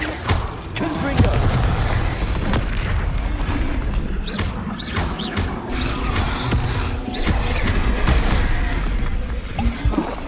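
Explosions from the Confringo fire spell in Hogwarts Legacy, repeated booming blasts over a rumbling battle with a voice shouting spell names in between.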